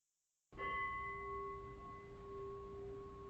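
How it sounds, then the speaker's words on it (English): A meditation bell struck once to end a session, a clear ring that sustains and slowly fades over several seconds after a short silence, heard alone. "we'll hit the bell to end the meditation"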